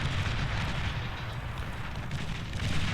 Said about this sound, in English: here comes the bombing run